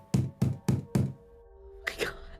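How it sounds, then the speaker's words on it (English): Four loud, evenly spaced knocks thud on a door, a short pause with a low hum, then a further rattling thump, all close and heavy. "This time, the knocking was loud enough to rattle the door."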